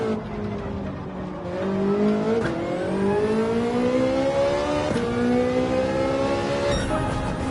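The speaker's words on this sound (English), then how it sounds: "Braking, using the engine braking as well." Race car engine in Gran Turismo 7 at Spa, an 800PP endurance racer, engine braking through downshifts: a loud, steady onboard engine note whose pitch falls and rises in stages over several seconds, with brief gear-change blips.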